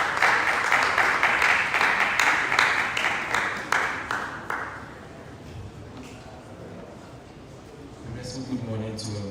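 A room of people at a College of Engineering vetting session claps for several seconds, the applause fading out by the middle, followed by a person starting to speak.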